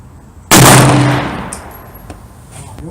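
A single loud gunshot from a Smith & Wesson 460 Magnum XVR revolver cracks at close range, then rings out in a long decaying echo with faint clinks afterward.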